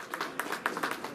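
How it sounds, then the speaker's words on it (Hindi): A crowd at a ceremony laying the foundation for a village road claps in a brief, fairly faint patter of scattered hands, with no talking. "मैं जनता से अनुरोध करता हूं जोरदार तालियों के साथ"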